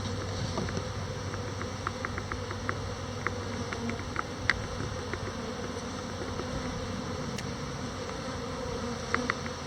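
Honeybees at opened beehives, a faint, continuous buzzing hum with occasional soft clicks and ticks.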